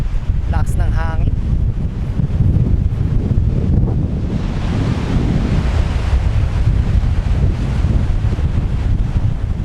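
Strong wind buffets the microphone with loud, continuous rushing and roaring near Patapat Bridge in Ilocos Norte, Philippines, on a Honda ADV 160 scooter ride, with a brief high whine early on.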